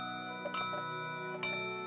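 A clock chimes twice in a cartoon, with bright, ringing strikes about a second apart over a steady tonal background, moderately quiet.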